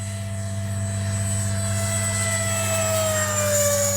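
An H-King Flycat V2 RC jet with gear up makes a low pass down the runway, a steady loud turbine whine with a strong low hum and a high tone that slowly drops in pitch as it goes by.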